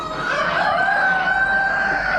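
At an Amish animal auction, a single rooster crows close and loud, one long drawn-out call holding steady for the whole moment with no voices over it.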